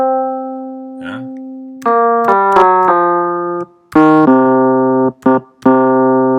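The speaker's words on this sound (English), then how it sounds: "Yeah, so that is the blues scale." Blues scale notes played one after another on a synthesized piano-roll instrument, clean sustained tones stepping through the scale with short gaps, alone with no talk.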